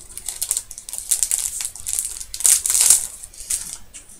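Packaging around a set of epoxy stickers crinkles and crackles as someone works it open, close-up rustling in quick irregular bursts with sharper snaps partway through.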